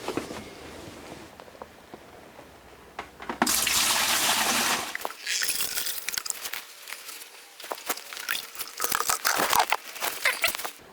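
Water pouring into a DIY two-plant hydroponic RDWC reservoir in a grow tent, a steady splashing rush that grows louder midway, then continues with crackly, bubbling gurgles close by and no speech.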